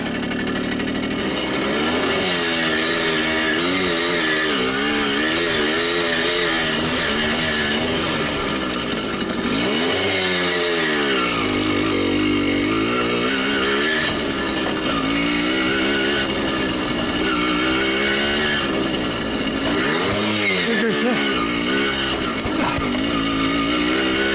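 A small two-stroke moped engine drones steadily and loudly throughout, its pitch rising and falling as it labors, with no voices.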